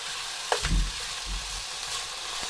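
Beef browning in a pan for rendang, a steady, moderate sizzle and fry throughout, with a brief clatter of stirring near the start.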